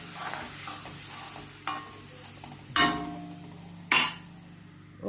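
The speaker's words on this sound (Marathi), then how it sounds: "चांगलं उकळी येते मसाला" Spiced curd masala made with tomato boils in a pan for dahi bhindi. The soft sizzle and bubbling are punctuated by a few sharp clinks of a spoon against the pan. No one speaks.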